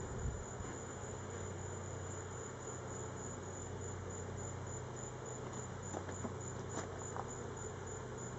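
Honey bees stirred up on a brood frame during a hive inspection make a dense, continuous buzzing drone that stays steady and fairly loud throughout.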